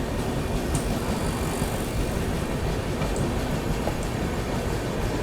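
Indian express train 20844 Bhagat Ki Kothi Bilaspur Express rolling on track from the main line into a loop line, a steady loud broadband rumble with faint clicks and rattles, heard from on board.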